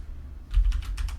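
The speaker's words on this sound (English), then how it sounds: "when typing in LUKS format" A short, quiet burst of several quick keystrokes on a computer keyboard while a command is typed for LUKS encryption setup in a Linux terminal, with no talking.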